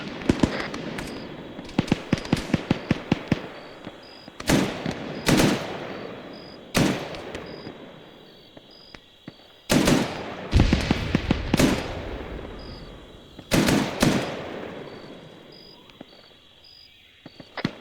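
A big gun firing in a military video game: a quick run of rapid shots, then a series of heavy, booming blasts spaced a second or two apart with decaying echoes, over a constant faint insect-like background hum.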